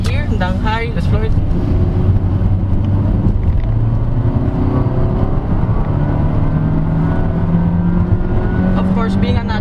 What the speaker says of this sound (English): being a naturally aspirated engine, it will scream a lot